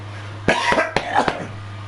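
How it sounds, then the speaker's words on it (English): A man coughs three times in quick succession, close to the microphone, each cough a sharp burst with a short rough tail, over a quiet background hum. "Again, I had to cough again."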